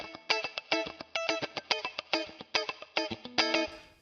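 An electric guitar played through a Two Notes Genome with both compressors muted, a quick run of distorted, sharply picked notes and chords with uneven attacks, loud and upfront, ending in a short decay.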